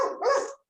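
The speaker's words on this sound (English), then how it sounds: "Whose dog is barking?" A dog barks in the background in a short burst of two or three quick, fairly loud barks that stop abruptly, leaving silence.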